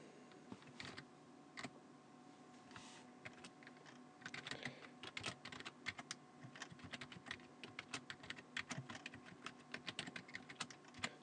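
Arduino code being typed on a computer keyboard: quiet, irregular clicks and taps in uneven bursts that grow busier toward the end, with no voices.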